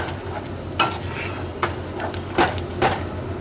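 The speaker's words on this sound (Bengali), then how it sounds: "নাড়তে থাকবো এবারে।" A spoon or spatula stirs a sugar-sweetened lentil dhoka mixture for dhokar dalna in a metal kadai: four distinct scraping knocks at uneven intervals over a soft, continuous shuffling scrape.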